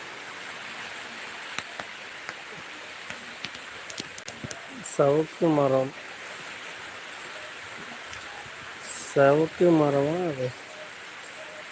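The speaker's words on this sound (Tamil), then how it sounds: "மழை நல்லா பெய்யுது." Heavy rain pouring outdoors in a village, a steady broadband hiss throughout, with someone talking briefly twice over it.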